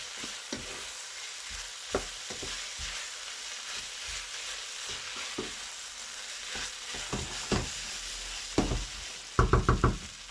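Vegetable fried rice sizzles in a hot pan under a constant frying hiss, while a spatula stirs and scrapes with irregular clacks that grow louder and quicker toward the end.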